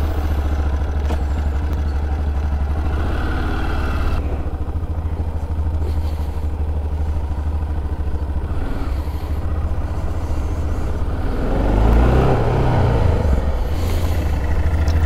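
Aprilia Pegaso Factory motorcycle engine running close by, a steady mid-pitched drone with some clatter, swelling as the bike pulls away and revs near the end, no speech.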